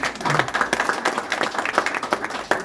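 An audience at an art exhibition opening, a summer painters' show near Saint-Malo, applauds with dense, steady clapping close by, a few louder individual claps standing out, and no speech over it.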